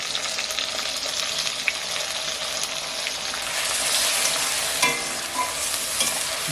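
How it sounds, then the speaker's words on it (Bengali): Onions with a mixer-ground spice paste sizzle loudly and steadily in a pan while being stirred and fried, a dense continuous hiss with occasional scraping strokes, close up and with no voices. "ভালো করে একে একটু নেড়ে কষিয়ে নিতে হবে"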